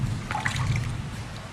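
Running water rinsing a dissected fowl's stomach, a close trickle and splatter over tissue, brief and uneven, fading toward the end.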